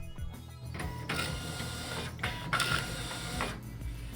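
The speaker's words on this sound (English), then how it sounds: "Confirm file transfer by printing." A Zebra ZT411/ZT421 label printer printing, giving a steady mechanical whir with rhythmic clicking and feed sounds, close and continuous for several seconds.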